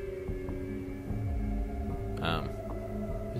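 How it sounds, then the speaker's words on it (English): A baleen whale vocalization inside the Vampire The Masquerade Bloodlines video game: low droning moans and tonal calls over steady game ambience, with a brief brighter swell near the end. "I just saw a baleen whale."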